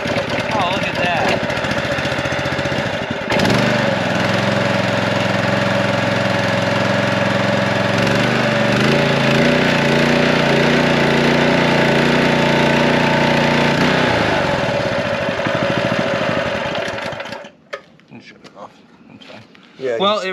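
A Honda engine on an old power washer runs steadily and loudly close by, with a rough mid-pitched drone that shifts in tone partway through before cutting out near the end, leaving quieter handling noises.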